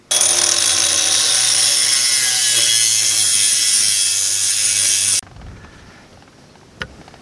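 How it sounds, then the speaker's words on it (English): An angle grinder cuts a metal rail in half for a rose pillar support, giving a loud, close, steady high-pitched whine that stops abruptly after about five seconds, followed by quiet with a brief clank. "So I'm going to cut it in half with my grinder."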